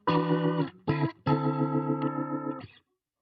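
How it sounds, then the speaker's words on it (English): Three sustained Hammond organ-like chords from a Donner Alchemy guitar pedal, warm and swirling, played in short bursts with brief gaps before ending abruptly. "I really like that Hammond sound"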